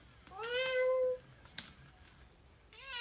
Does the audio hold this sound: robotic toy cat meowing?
yes